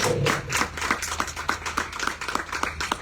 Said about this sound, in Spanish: Un aplauso para Georgette, por favor.